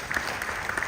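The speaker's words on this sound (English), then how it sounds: "Big round of applause for the gentleman today" Brief burst of audience applause for a panelist at a leadership conference and awards event, steady clapping filling the short moment.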